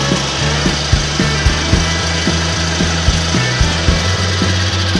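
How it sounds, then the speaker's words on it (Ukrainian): An Endress 6000 generator hooked to an automatic transfer switch runs nearby with a steady low hum and a regular knocking pulse, loud and constant throughout. "Генератор работает."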